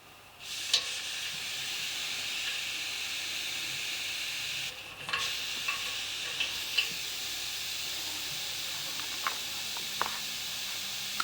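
A steady, soft hiss of air escaping from a radiator bleed valve runs throughout, with a few faint clicks and taps scattered over it.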